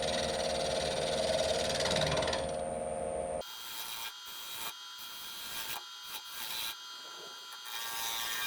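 Wood turning on a lathe: a tool dishes out a small wooden pendant, giving a steady close scraping and rubbing over the motor hum, then the lathe winds down to quieter intermittent scratching and rubbing.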